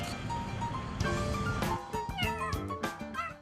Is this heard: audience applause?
no